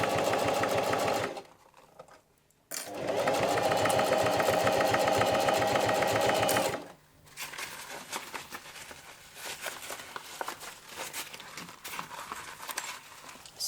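A sewing machine runs a zigzag stitch along bias tape on a homemade bum bag, a fast rhythmic clatter in two loud bursts separated by a pause, then quieter intermittent handling.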